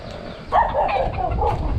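Chickens clucking and calling outdoors at a moderate distance, several overlapping bird voices over a low background rumble.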